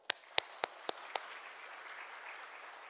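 Applause in a church gathering for the Sunday school and Korean school teachers opens with a few sharp, separate claps that quickly blur into a softer, steady patter of clapping from the congregation.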